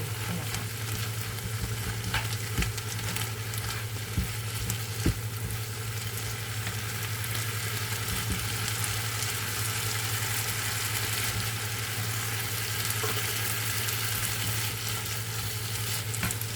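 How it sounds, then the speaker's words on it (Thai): Black rice being stirred and fried in a pan, with a steady sizzle running throughout and occasional soft scrapes of the utensil against the pan, close and even, with no talking. "คนให้เข้ากันนะคะ"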